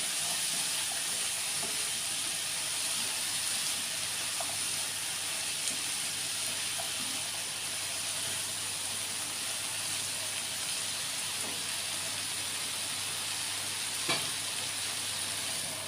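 Spring onion greens fry and get stirred in a pan, giving a steady broadband sizzle with faint scraping throughout, fairly quiet and with no voices.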